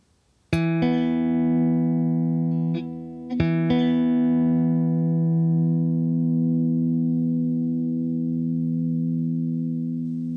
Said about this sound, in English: This is my guitar sound, nice and clean.